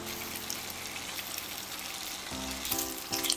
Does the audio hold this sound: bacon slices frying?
yes